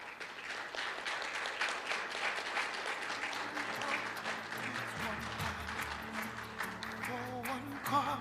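An audience applauds at a book presentation for a national conversation, a steady wash of clapping sustained throughout, with a voice beginning to speak over it near the end.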